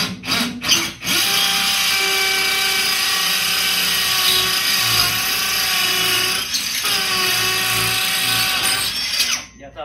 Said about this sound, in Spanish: Tengo este taladro para barrenar porque tiene más poder que el otro,